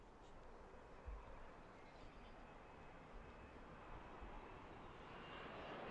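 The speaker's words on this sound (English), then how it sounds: "Alright, here comes the Dreamliner." A Boeing 787-9 Dreamliner approaches to land at Philadelphia airport, its engines a faint, steady distant roar that swells gradually toward the end.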